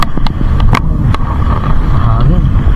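Strong sea wind buffets the microphone outdoors on a fishing trip, a loud continuous rumble with a low engine hum and a voice talking beneath it.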